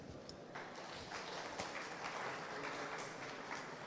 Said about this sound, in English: we should welcome him warmly with a round of applause